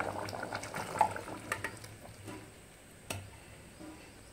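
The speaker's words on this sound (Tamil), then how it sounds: "கருணக்கிழங்கு குழம்பு நல்லா கொதிச்சு மசால் வாடை எல்லாமே போயிட்டு" Elephant foot yam curry with coconut milk simmering in a pot, giving soft, quiet bubbling with occasional small pops and ticks, faint and close with no talk.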